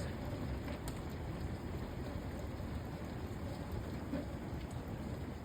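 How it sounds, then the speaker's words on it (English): Heavy downpour in a thunderstorm, steady dense rain hissing and drumming on surfaces close by, with low rumbles of thunder rolling underneath throughout. "Lightning. Thunder."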